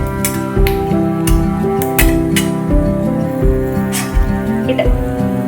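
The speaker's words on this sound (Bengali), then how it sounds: "পোহা বানানোর জন্য প্রথমে আমি গরম তেলে চীনাবাদামগুলো দিয়ে দিয়েছি, আর এগুলো হালকা আমি ভেজে নেব।" Peanuts stirred in hot oil in a pan, with a light frying crackle under repeated clinks and scrapes of a metal utensil against the pan, while tonal music plays throughout.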